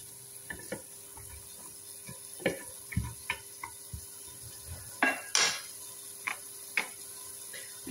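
A spoon stirs okra and potatoes in a metal pot, with a series of sharp scraping clinks and knocks against the sides over a soft sizzle, close and clear with no talking.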